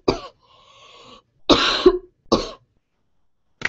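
A few sharp coughs in separate bursts, close to the mic, with a quieter throat-clearing rasp between them and brief pauses.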